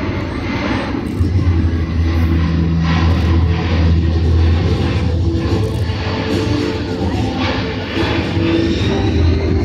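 A Boeing C-17 Globemaster military jet makes a slow flyby at the Dover airshow. Its deep, loud engine rumble is continuous and droning throughout, with faint crowd or commentary underneath.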